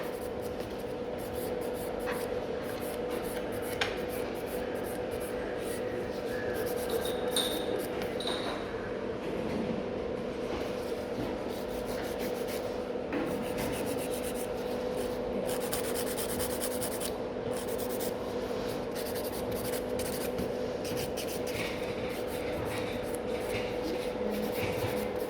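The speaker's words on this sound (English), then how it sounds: "when I'm using a file on the product, I go for 100 grit and then 180 grit for a natural nail" A hand nail file with 100 grit, then 180 grit, rasps over a gel nail product during a gel rebalance, giving a continuous scratchy filing sound with steady close strokes for the whole stretch.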